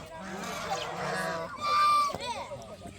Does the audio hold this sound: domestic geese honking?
yes